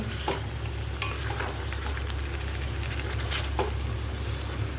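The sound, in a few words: stirring mutton with spice paste in a pan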